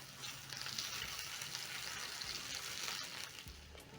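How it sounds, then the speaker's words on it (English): One large onion fries slowly in a pan for barbecue sausages, making a faint, even hiss of frying that continues without a break, with no voices over it. "So you're slowly going to cook your onions for around 3 to 4 minutes until the onions caramelize a little bit"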